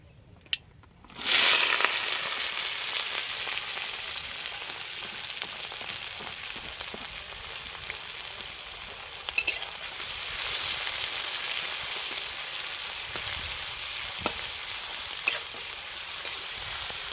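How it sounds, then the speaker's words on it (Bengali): Chopped onion and green chili drop into hot oil and erupt into a loud, steady sizzle that holds throughout, with a few brief clinks and stirring scrapes. "আমাদের তেলটা গরম হয়ে গেছে ভালোভাবে এর মধ্যে এবার পেঁয়াজ লঙ্কা কেটে রাখা পেঁয়াজ গুঁটা দিয়ে দেবো"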